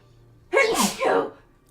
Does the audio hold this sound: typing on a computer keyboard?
no